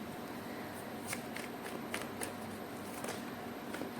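Tarot cards being shuffled by hand, a steady papery riffling hiss with a few sharper flicks, close and fairly quiet, with no talking over it.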